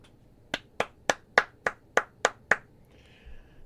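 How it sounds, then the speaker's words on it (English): One person claps alone, eight sharp, evenly spaced claps close up in a quick steady rhythm, followed by a brief faint noise. "Can we get a round of applause for the first ever poverty entrance in this video?"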